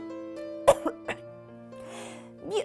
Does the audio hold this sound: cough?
yes